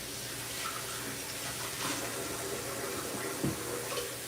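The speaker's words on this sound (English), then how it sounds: "I'm gonna wash my hands real quick because I always wash my hands." Water from a kitchen tap runs steadily into a sink while hands are rinsed free of onion and garlic, a continuous close splashing hiss with a brief knock near the end.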